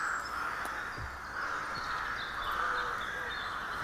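Crows caw repeatedly near houses, a harsh chorus of calls blending into a steady, fairly loud din with no clear pauses.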